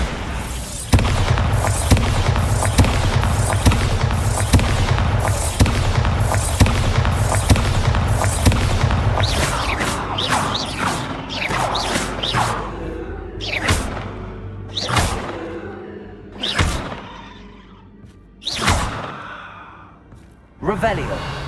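A Bombarda spell is cast in Hogwarts Legacy, giving a dense run of loud booming, crackling blasts like fireworks that thins into separate bursts spaced a second or two apart, with gasps and breathy effort sounds mixed in.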